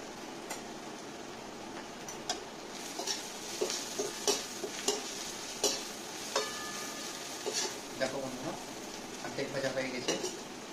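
Quiet sizzling in a pan with frequent scraping and clinking of a utensil stirring, irregular taps scattered throughout; no one speaks.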